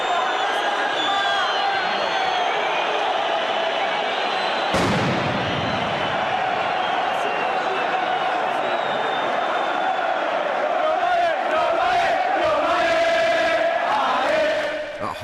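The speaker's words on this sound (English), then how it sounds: "After the goal, there was more crowd trouble." A dense, roaring crowd of football ultras at the Lazio–Roma derby fills the stadium with continuous noise, punctuated by a sharp blast like a firecracker or flare, followed by sustained chanting and shouting.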